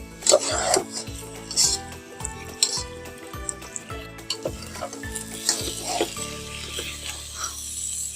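Chicken pasta ingredients being stirred and fried in a pan over medium heat: repeated scraping and clattering strokes over a steady sizzle, with background music throughout.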